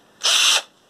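An Einhell cordless drill/driver spins up briefly with a steady high-pitched motor whine lasting under half a second, close and loud, then winds down, with no talking.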